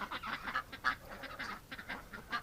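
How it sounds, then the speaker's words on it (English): Ducks call outside in winter, a faint, distant string of honking quacks that comes in uneven bursts with no talking. "There you go, ducks. I heard you. They're loud."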